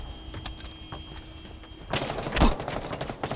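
Gunfire in the Halo Infinite video game, with a sudden burst of rapid shots and a sharp impact following a quieter stretch of clicking.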